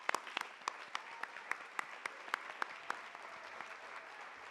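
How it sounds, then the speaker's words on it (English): A small audience at a design awards event claps, sparse and fairly quiet overall, with a handful of sharper individual claps standing out over a soft, thinning patter. "So can we clap to that real quick?"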